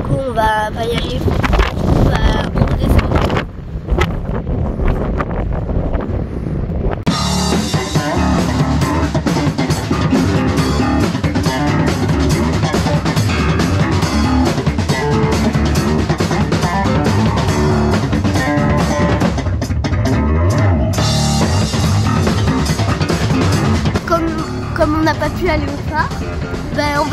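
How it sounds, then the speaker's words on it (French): Strong coastal wind between Anglet and Biarritz, a loud, continuous buffeting roar battering the microphone, with brief gaps and bursts as gusts strike; people talk through it. "il y a trop de vent"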